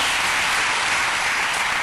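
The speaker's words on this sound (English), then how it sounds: "That's a good place to clap" Steady audience applause fills the space, dense and continuous with many hands clapping at once, loud and close, with no voice over it.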